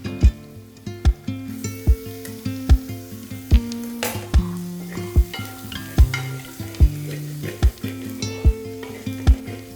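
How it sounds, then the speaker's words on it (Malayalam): Tomatoes fry steadily in a pan for pork vindaloo while a utensil scrapes and knocks against it in a regular rhythm, close up, with no talking. "അതുകൂടെ ഇതിലോട്ടിട്ട് നമുക്ക് മൂപ്പിച്ചെടുക്കാം"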